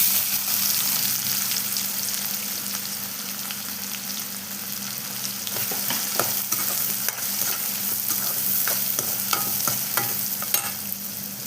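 Onions sizzle steadily in hot oil for a vegetarian fish-style curry, with a spoon scraping and stirring through them in close, repeated strokes over the continuous frying hiss.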